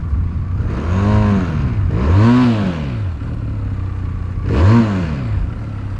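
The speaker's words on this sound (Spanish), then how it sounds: "este es el sonido original de la moto" A Benelli Leoncino 500 motorcycle idles without throttle, its exhaust giving a steady, close, throbbing rumble with slight slow pitch swells and no voices.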